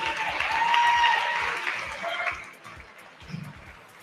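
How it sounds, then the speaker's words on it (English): An audience applauds at a live Fairy Tale Ball show at The Winter's Palace, the clapping full and steady at first, then thinning and fading away over the last seconds. "let's give Unisha another welcoming round of applause"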